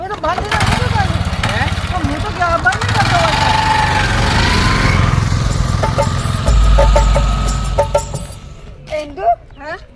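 A motorcycle engine that won't shut off runs loudly and close by with a rough, rattling idle, while people talk over it; the engine noise eases toward the end.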